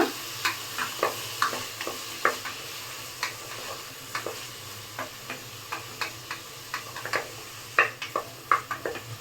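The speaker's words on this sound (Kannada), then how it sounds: "ಟೊಮೆಟೊ ಸಾಫ್ಟ್ ಆಗೋವರೆಗೂ ಚೆನ್ನಾಗಿ ಫ್ರೈ ಮಾಡ್ಕೊಳ್ಳಿ" Tomatoes fry in oil in a pan under a soft background sizzle. A spatula scrapes and taps the pan in a steady stream of sharp clicks, about two each second, close and fairly clear, with no talking.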